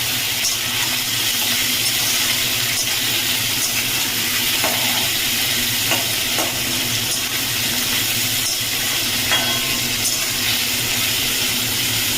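Shrimp and potatoes frying together in a pan, a loud, even, close sizzle with occasional crackles and faint stirring scrapes running continuously, with no talking.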